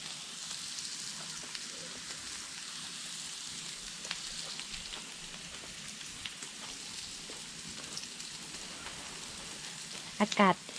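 Steady sizzling and crackling of pork frying on a hot tabletop grill, continuous throughout, with a brief clatter of utensils near the end.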